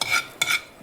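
Seeds dry-roasting in a pan for date and dry-fruit laddoos crackle in three quick, bright bursts, close up and with no voices.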